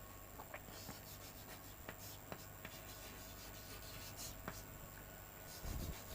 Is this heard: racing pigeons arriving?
no